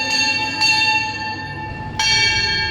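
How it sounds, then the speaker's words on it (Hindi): A temple bell at Sitamadhi, Uttar Pradesh, is rung by a small child held up to reach it, two clear metallic strikes whose long shimmering ring carries on under a faint background murmur. "मैंने उसको गोदी में लेके घंटी बजवाया।"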